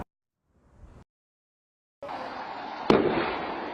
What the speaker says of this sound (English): You could tell it was an explosion.